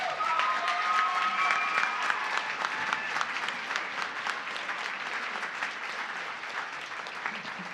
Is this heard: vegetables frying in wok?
no